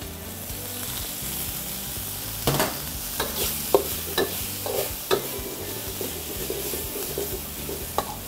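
Chili paste stir-fried in oil in a wok for Nyonya asam fish, a steady close sizzle broken by repeated spatula scrapes and knocks in an irregular rhythm.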